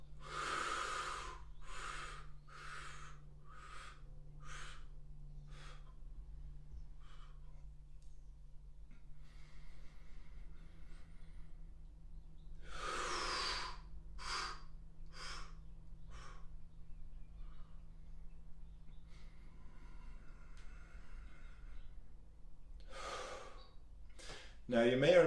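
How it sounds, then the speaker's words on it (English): Someone breathes out in a deep breathing exercise for spinal decompression: a run of sharp, forceful exhales, a quiet pause, then more breathy bursts near the end. A low steady hum runs underneath. "I'm going to exhale all my air out"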